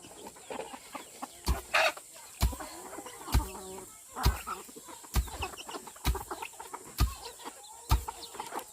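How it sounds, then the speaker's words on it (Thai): Chickens cluck repeatedly on a rural homestead, a steady run of close, sharp clucks and calls with a louder squawk early on, against quiet farmyard background with sharp knocks at regular intervals. "ไก่มันอยากกินข้าว"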